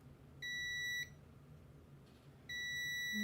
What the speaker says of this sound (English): these in continuity mode, I should beep when I have a direct path